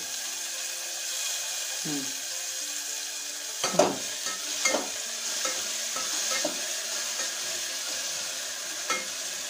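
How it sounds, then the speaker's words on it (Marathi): Tomatoes frying and being stirred in a pan, with a steady bright sizzle and a few scraping clatters from the spoon, close and moderately loud. "त्यानंतर आपण याच्यामध्ये टोमॅटो टाकायचं आहे."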